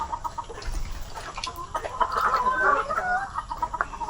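Chickens on a farm cluck and squawk in short repeated bursts, close and fairly loud, rising into a busier chorus midway.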